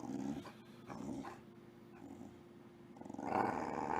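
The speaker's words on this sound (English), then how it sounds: "No, don't growl with your teeth against me like that." A dog growls low and close in short rumbling bursts, with quieter pauses between them.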